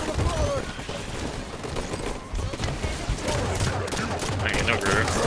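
Sustained bursts of gunfire as a squad focuses fire on a boss in an online shooter game, dense overlapping shots with chaotic battle noise and voices throughout.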